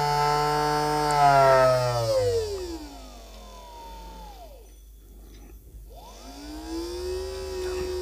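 A small DC motor driven through a MOSFET voltage regulator whines steadily, its pitch gliding down as speed drops, nearly stopping, then rising again, close and clear with no talk.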